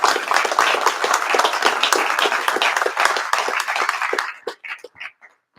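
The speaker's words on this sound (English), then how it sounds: "everybody give Don Frazier a big round of applause" Audience applause welcoming a historian to a roundtable talk, a dense burst of many hands clapping that holds for about four seconds, then breaks into a few last scattered claps before stopping.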